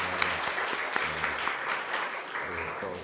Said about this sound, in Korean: 우리 한번 뜨겁게 환영의 박수 올려드리겠습니다.